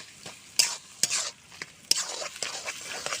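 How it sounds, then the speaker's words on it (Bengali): Spoon scraping through vegetarian banana flower curry with paneer, ghee and garam masala in a pan, a few sharp clacks against the vessel over a soft, steady sizzle, close by with no talk. "সুন্দর করে মিশিয়ে নেব।"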